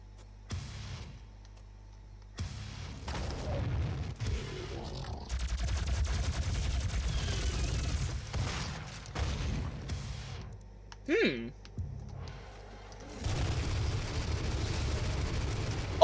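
A plasma rifle fires in the video game DOOM 2016 in loud, sustained bursts of rapid energy shots with booming impacts, broken by short pauses, as someone talks over the action.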